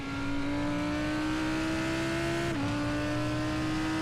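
Lamborghini and Audi V10 race cars in a sim racing game of the 12 Hours of Spa endurance race, one engine droning steadily at high revs, its pitch easing slightly and then dropping at a gear change, with no talk.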